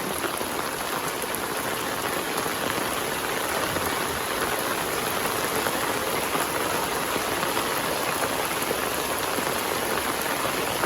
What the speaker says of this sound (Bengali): আজকে 5-6 দিন ধরে বৃষ্টি বৃষ্টি।